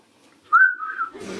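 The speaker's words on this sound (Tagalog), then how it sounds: "Sipol-sipol ka lang pag ganito maanghang." After a mouthful of spicy Samyang noodles, a person gives a single clear whistle that jumps up, holds for about half a second, then fades. A short soft rustle follows.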